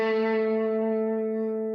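A single sustained electric guitar note, G2, rings out clearly and slowly fades, heard alone with a rich, harmonic tone.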